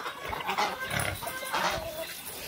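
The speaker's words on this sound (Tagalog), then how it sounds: "sunod na kakain is yung alaga ko ng baboy na si Blacky." A pet pig grunts and snuffles steadily while eating at a cement feeding spot on a rural farm, the repeated short grunts close and moderately loud.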